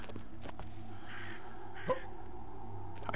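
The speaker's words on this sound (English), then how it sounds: "I hear a crow." A crow caws in the fantasy video game Kings of Lorn, a couple of faint, fairly distant calls over a low ambient game background with soft footsteps.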